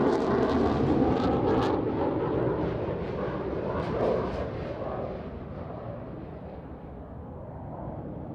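A fast jet roars through a high-G turn in a flying display at the Farnborough International Airshow, a loud continuous broadband rumble that slowly fades as it passes.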